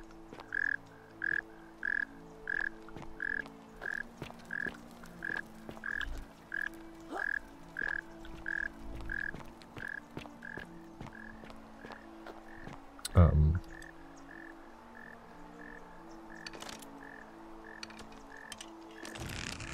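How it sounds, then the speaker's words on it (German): In The Forgotten City video game, a frog croaks loudly and rhythmically, close and insistent, layered over low ambient game tones and occasional clicks. "Übelst lauter Frosch."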